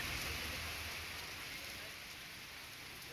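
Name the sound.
rain falling in Bengaluru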